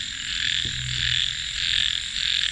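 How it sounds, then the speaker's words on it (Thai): Frogs croak steadily in a rice field at night during frog hook fishing in Wapi Pathum, Thailand, a dense insect-like chorus running throughout with a brief thump partway through. "เนี่ยทั้งเนี้ยมันมีกบนั่งเฝ้าน่ะ"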